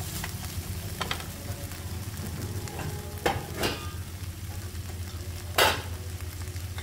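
Turmeric masala sizzling in a hot pan while being stirred for Shahi Paneer, a continuous frying hiss with occasional sharp scrapes and clacks of the spoon against the pan.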